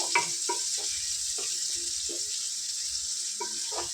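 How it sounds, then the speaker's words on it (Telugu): Five green chillies and onions fry in oil in a pan with a steady, bright sizzle, broken by light clinks of stirring every second or so. "ఒక ఫైవ్ మిర్చి వేసుకోవాలి ఫ్రెండ్స్ వీటిని చక్కగా ఫ్రై చేసుకుందాం లైట్ గోల్డెన్ బ్రౌన్ కలర్ వచ్చే వరకు"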